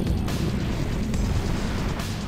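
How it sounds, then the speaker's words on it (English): A mech blows up in the MechAssault 2 video game, giving a dense, sustained roaring rumble that stays loud throughout with a few sharper bursts layered on top. "Aside from that one mech blowing up."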